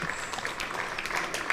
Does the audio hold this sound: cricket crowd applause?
yes